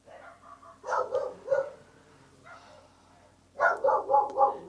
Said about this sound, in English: Why don't you both shut your dogs up?